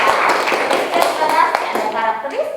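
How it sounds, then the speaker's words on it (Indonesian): A class of students claps together in a classroom, a quick burst of close, uneven hand claps with children's voices mixed through it. "Tepuk tangan buat kalian."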